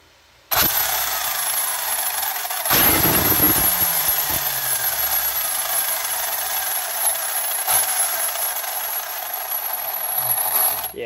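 An Arrma Limitless dual-motor RC car powers up with a sudden loud, sustained high-pitched electric whine and rattling clatter that holds steady for about ten seconds, with a brief surge partway through.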